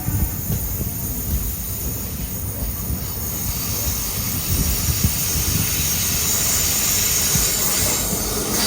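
Guruvayur to Thrissur Express train in Kerala running after leaving Punkunnam station, with a loud, steady rumble and rail noise, a continuous close roar and faint high squealing from the wheels.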